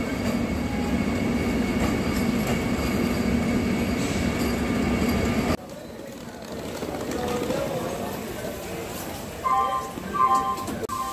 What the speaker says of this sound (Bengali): সেই সময় কোডারমা জংশনে ঢুকছে রাঁচি পাটনা বন্দে ভারত এক্সপ্রেস